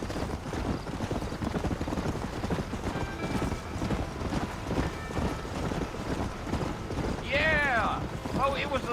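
A horse gallops with rapid hoof clip-clops over a steady outdoor ambience in the Red Dead Redemption video game, ending in a loud whinny near the close, with voices talking over parts of it.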